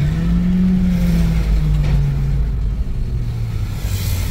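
Honda Vezel Hybrid car with a faulty gearbox, its engine droning steadily from inside the cabin while the pitch drifts up and down as the RPM fluctuates, with a deep continuous rumble underneath.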